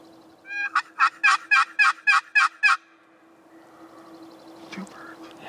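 A wild turkey gobbles in the woods during spring hunting, a rapid burst of about eight loud, rattling pulses, fairly close, followed by quiet outdoor ambience and a faint call.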